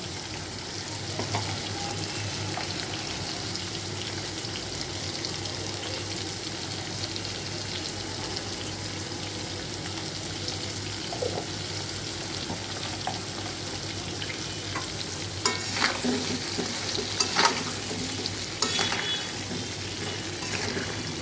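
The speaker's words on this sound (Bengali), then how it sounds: "এবার আলু পটল একসঙ্গে আর একটু ভেজে নেবো, ভালো করে ভেজে নেবো।" Potato and pointed gourd pieces fry in a pan with a steady dense sizzle, occasional scraping stirs and a few louder clatters near the end, close and unvoiced.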